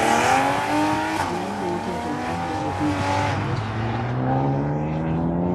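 An autocross race car in the STH class at Auto Club Speedway finishes its run, engine revving hard through rising and falling gear notes with tire squeal, loud and close, then easing off and fading at the end.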